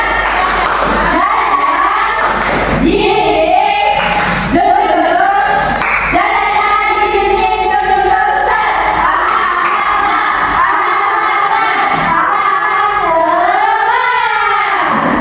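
Schoolchildren in a classroom perform a tepuk semangat clapping chant, a loud group of young voices shouting rhythmically with sharp claps and thumps in between.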